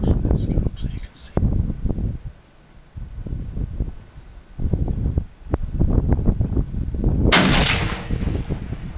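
A hunting rifle fires at a deer outdoors: one sharp, loud report rings out near the end, set amid quiet talk and breathy wind noise in the open air.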